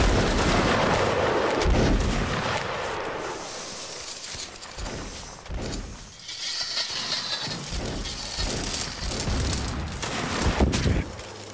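Musket volleys ring out in Mount & Blade, booming ragged fusillades of many black-powder shots layered over one another, loud and close, with smaller scattered reports and a voice calling commands between them.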